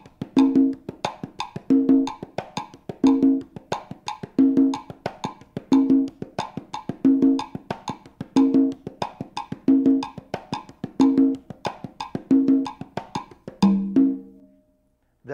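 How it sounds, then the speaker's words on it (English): Conga drum pattern played over a 2-3 clave in 4/4 time, steady repeating strokes in even bars for about fourteen seconds, close and fairly loud, ending on a lower sustained hit with no voices. "That's the sound of the conga drum."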